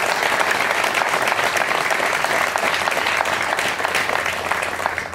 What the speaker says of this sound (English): Please remain standing and give a round of applause to the teachers and staff